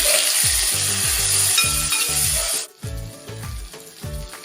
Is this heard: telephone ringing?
no